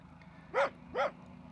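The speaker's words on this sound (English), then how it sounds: "this one dog seems to want to go with me, doesn't want to let me go" A dog on a mountainside above Cusco, Peru gives two short yips or barks, moderately distant and faint, over quiet background noise.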